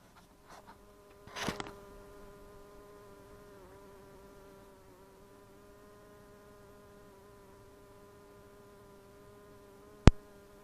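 Honey bees buzz around an opened beehive during an inspection, a steady close drone with a few louder passes near the start and a sharp click near the end, with no one talking.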